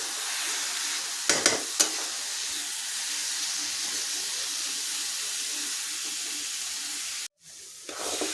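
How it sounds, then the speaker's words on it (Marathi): Grated carrot halwa is stirred in a kadhai while the ghee separates, giving a steady soft sizzle and hiss with a few sharp scraping knocks of the spoon, then a brief gap. "तर थोडं तूप येईपर्यंत आपण याला परतवूया."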